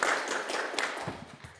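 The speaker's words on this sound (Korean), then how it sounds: "박수로 한번 환영하겠습니다." A Korean church congregation at Sunday worship clapping to welcome visiting guests, a short scattered burst of hand claps that quickly thins out, moderately quiet.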